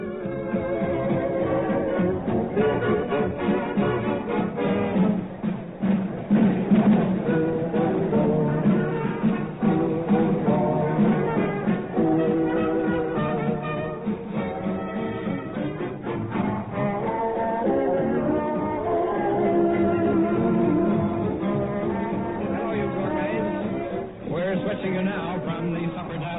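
The bustling kitchen of the Savoy in London at night, with overlapping voices, clattering dishes and steady background commotion throughout, noisy and dense.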